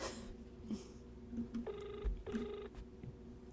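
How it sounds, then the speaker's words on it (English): Faint telephone ringing in a horror video game: two short ring bursts sound close together midway through, over a low, noisy background. "Phone is ringing."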